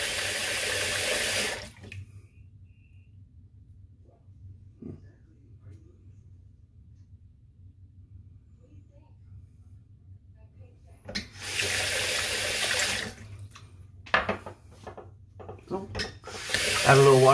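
Bursts of running tap water splash into a sink, stopping and starting with quiet pauses and some soft handling noises between them.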